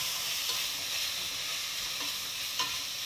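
Tomato masala with salt, turmeric and red chili powder being stirred in a pan: a dense, bright sizzle runs continuously, broken by a few soft scraping strokes of a spoon, close up and with no voices.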